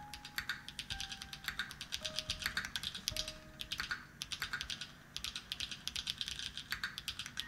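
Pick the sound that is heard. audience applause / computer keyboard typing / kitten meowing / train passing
computer keyboard typing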